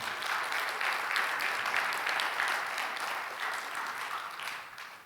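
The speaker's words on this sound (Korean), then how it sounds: "박수 한번 치십시다" A church congregation at a Friday worship service breaks into steady, dense applause that fills the room for several seconds before tapering off, with no voices over it.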